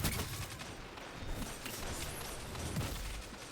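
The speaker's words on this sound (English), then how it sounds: "We are facing against some pulse rifles." Rapid pulse rifle gunfire in the video game Destiny 2 during Guardian Games 2023, dense overlapping bursts of shots that stay loud and continuous throughout, with no pauses or talk.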